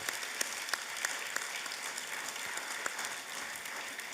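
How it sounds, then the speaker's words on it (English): A large audience at an ECOWAS heads of state summit session applauds steadily and loudly in a standing ovation, a dense wash of clapping with a few sharper claps standing out. "give him a standing ovation and more applause"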